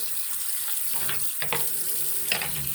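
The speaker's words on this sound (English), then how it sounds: "Rinse all the dirt." Running tap water rinses a DirecTV RCA remote control under a faucet, a soft steady stream broken by splashy bursts as the remote moves through the flow, with no talking.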